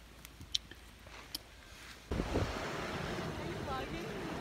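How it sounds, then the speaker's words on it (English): Ocean waves crash on a beach with wind buffeting the microphone. Faint clicks and scattered small sounds come first, then a sudden loud surge of surf and wind noise fills the rest. "you can't hear me because of the waves"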